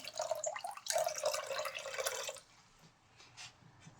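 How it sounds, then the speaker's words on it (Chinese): About 600 ml of water pours into a cooking pot over ingredients with ginger slices, a steady close splashing stream that stops after about two seconds, followed by faint drips. "最后加水，水大约在600毫升左右即可。"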